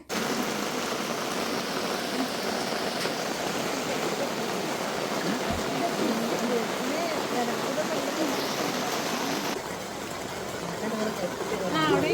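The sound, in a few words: rain falling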